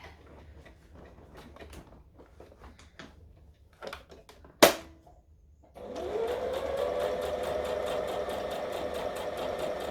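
A sewing machine stitching a long seam through heavy maxi dress fabric, starting after a few quiet clicks and one sharp knock, then running as a steady, fairly loud whir to the end.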